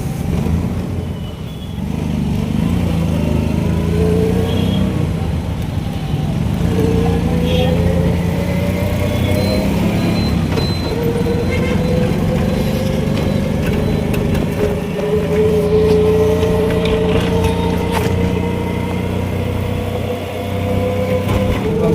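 Continuous road traffic heard from an e-rickshaw (toto) moving through Jodhpur streets, engines droning and humming steadily, with faint horns and a voice speaking over the moving-vehicle noise.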